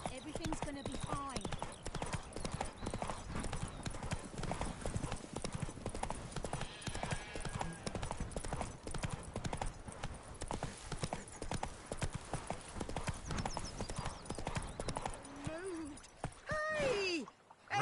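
Roach, Geralt's horse in The Witcher 3, gallops with steady rapid hoofbeats throughout, close and loud, under game music and someone talking, with a brief whinny near the end.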